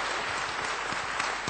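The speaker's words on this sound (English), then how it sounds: "please give Glyn a stirring round of applause" An audience at a keynote event applauds a speaker named Glyn, a brief, steady burst of many hands clapping, fairly even and moderately quiet, with a few louder individual claps standing out.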